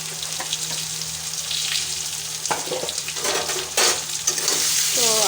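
Spice paste of ginger, green chilli, cumin and chilli powder sizzles steadily while being sautéed for a bhola fish dish, with scraping stir strokes and a few clinks of a utensil against the pan throughout.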